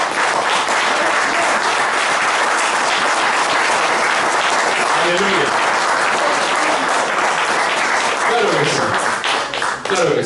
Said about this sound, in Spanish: Yo aplaudiría a Dios por eso